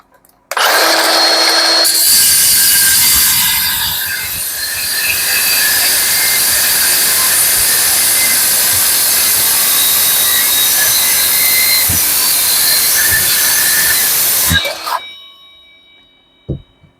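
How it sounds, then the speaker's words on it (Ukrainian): A Milwaukee M18 Fuel cordless metal circular saw slices through two steel angles together, a loud sustained high-pitched cutting whine lasting about twelve seconds before spinning down, with a brief start-up burst first. "Ну, мощна циркулярочка."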